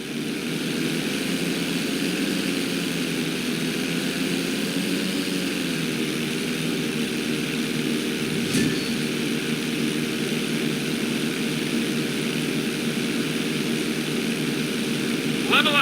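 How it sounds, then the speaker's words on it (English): A propeller airplane engine drones steadily in flight in Grand Theft Auto V flight school, a loud, even hum with slight pitch shifts during a maneuver and a short click midway. "Level out the plane."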